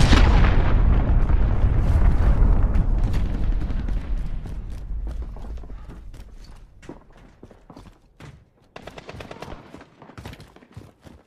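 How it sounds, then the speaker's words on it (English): Cruise missile strike in Call of Duty Modern Warfare, a massive loud explosion that booms and rumbles, then decays into scattered crackling debris and smaller secondary blasts. "Enemy cruise missile incoming,"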